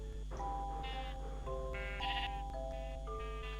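Sheep in the Minecraft video game bleat repeatedly from pens, a series of short game-sound bleats over a steady low background hum, with no talk.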